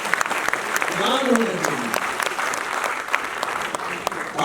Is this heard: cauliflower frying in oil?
no